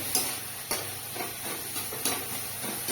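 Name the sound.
spice paste being sautéed in pan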